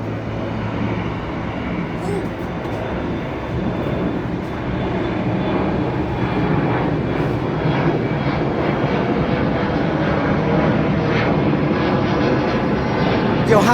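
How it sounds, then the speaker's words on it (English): A Boeing 747 airliner heard from the air traffic control tower in Seattle, giving a steady, loud jet roar that swells gradually and holds throughout, with no speech over it. "I'm getting a shot of a 747 from the tower."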